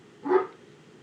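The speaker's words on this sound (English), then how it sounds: "I apologize if you can hear my dog." A dog barks once indoors, a single short, moderately loud bark that stands alone with no talk over it.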